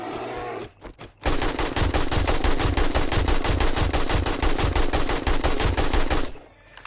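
A level 1 AK rifle fires in 7 Days to Die, a fast, loud, unbroken burst of automatic shots lasting about five seconds before stopping abruptly.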